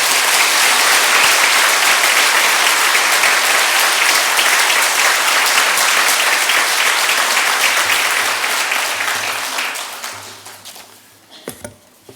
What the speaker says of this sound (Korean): 너무 수고하신 우리 장로님께 감사하는 마음으로 박수로 환영하겠습니다